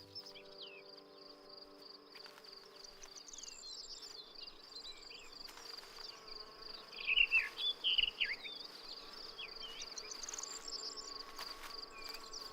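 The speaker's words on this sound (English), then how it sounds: "Many others produce nectar, which attracts a colourful array of insects." Insects drawn to nectar-rich spring flowers in Europe keep up a steady, thin high trilling throughout, with a few faint bird chirps briefly rising to the foreground midway, all quiet and without voices.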